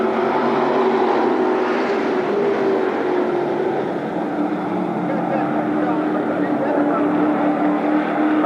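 Late model race cars circle an oval track at Berlin Raceway in a steady, continuous engine roar, a sustained droning hum shifting pitch as the pack passes, with a commentator talking over it throughout.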